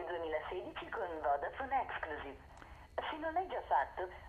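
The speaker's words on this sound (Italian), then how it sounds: "la qualità del viva voce non è altissima" Phone call over the speakerphone of a Samsung Galaxy A3 2016, with a thin, band-limited voice talking continuously from the small loudspeaker, close and moderately loud.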